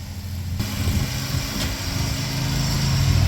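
Engine of a riding tractor cutting grass, a steady droning hum close by that grows slightly louder, with a faint mechanical rattle and no talking.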